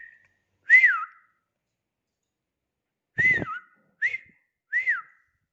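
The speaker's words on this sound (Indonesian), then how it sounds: "selain jentik tangan kita bersiul juga bisa seperti ini" A person whistles four short, separate notes to trigger a voice sensor, each a quick rising-and-falling tweet, with a long pause after the first and the rest closer together.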